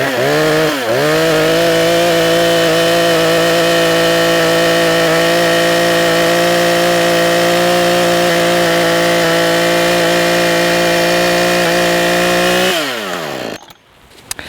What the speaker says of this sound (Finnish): tässäkin polttomoottorikone pitää huomattavasti isompaa meteliä